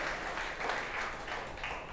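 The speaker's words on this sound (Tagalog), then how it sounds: "The best pong palakpak once again para kay Jesus." Congregation applauding during a Sunday church service, a soft, continuous rustle of many hands clapping together, heard from a distance at low level for the whole stretch.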